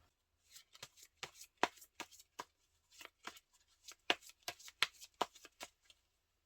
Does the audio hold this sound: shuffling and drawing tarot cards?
yes